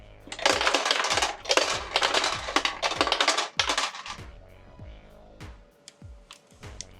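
Dice clatter down a dice tower built into a board game case, a dense run of hard rattling clicks and bounces that thins into a few scattered taps as the dice settle.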